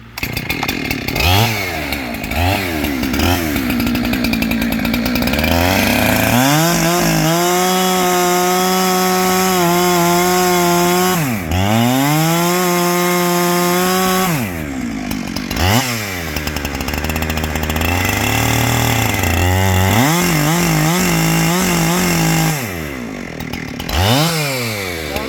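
A chainsaw cuts into a pine tree near houses, the engine droning loudly and steadily while its pitch repeatedly drops under load and climbs back as it revs, with no talking.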